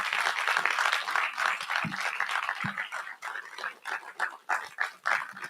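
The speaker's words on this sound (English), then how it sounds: "Please keep clapping." Audience applause fills a hall as a guest walks onstage at a leadership talk, a dense steady patter of clapping that thins and turns more scattered toward the end, with a few louder isolated claps.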